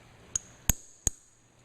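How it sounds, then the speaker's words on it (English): Three sharp metallic taps of a small hammer striking a punch to drive out the bolt pin of a Mossberg 590 shotgun, evenly spaced with bright ringing tones, close and fairly quiet against a silent background. "You might have to use a hammer, and in this case I'm going to have to."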